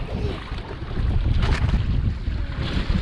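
Steady wind roars and buffets the microphone while a Hobie Mirage Tandem Island sails on Redfish Lake, with a low rumble of water against the hull throughout and no talk.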